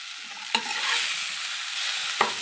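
Grated sweet potato stirred in a very hot wok with sugar and nuts, giving a steady close sizzle broken by two sharp scrapes of the spoon against the pan.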